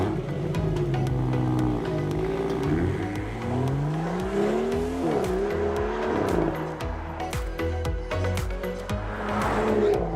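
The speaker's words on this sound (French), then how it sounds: "Son moteur est toujours aussi mélodieux, toujours aussi musclé." A BMW X3 M40i engine revs up and down through gear changes while driving, its tone rising and falling in sweeps, with tire noise underneath and no talking.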